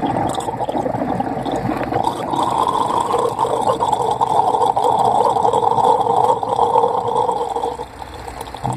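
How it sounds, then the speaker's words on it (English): Water drains out of a washing machine through the drain pump, a steady gurgling, rushing flow heard up close that continues evenly, easing slightly near the end. "And water is going. Goodbye water, it's gonna burp in a few seconds."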